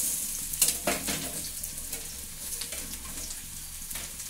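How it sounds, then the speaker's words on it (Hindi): Bottle gourd leaf pakoras sizzle quietly in hot oil as they are turned over, with a few soft scraping and clinking touches over a faint steady fry. "पकौड़ी जो है एक साइड से जो हो गया है और इसको हम लोग जो है दूसरे साइड से पका लेते हैं।"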